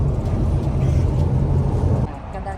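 A Ford Mustang GT350 engine rumbles steadily up close with a deep, throaty drone, then drops off sharply near the end as the note fades lower.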